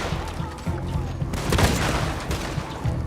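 Gunfire in Red Dead Redemption 2 pops in a dense rapid barrage of overlapping shots and booms, loud and continuous across the moment, with a player's voice faintly under it.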